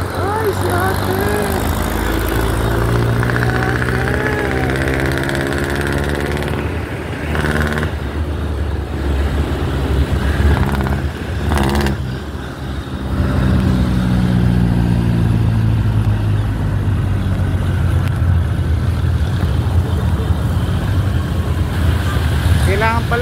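A motorcycle engine drones steadily while riding on a road trip through heavy rain, loud and close throughout, with people talking over it at times.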